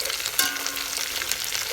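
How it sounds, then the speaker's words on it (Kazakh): Chopped onions and carrots sizzle steadily in olive or vegetable oil in a pan, a dense continuous crackle with an occasional stir or clink of a utensil. "пиязымызбен сәбізімізді қуырамыз."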